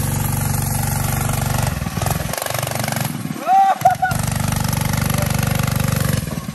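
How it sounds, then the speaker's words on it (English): Small pocket bike engine revving hard and buzzing near and loud through a wheelie attempt, briefly dropping and then surging again, with voices calling out over it. "Yo, Bailey, hop on the back for a wheelie sesh"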